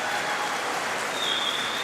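Appreciative crowd applauding at a swimming World Cup finals session in Berlin, a steady, dense wash of clapping that fills the whole stretch without breaks, with faint voices blended in.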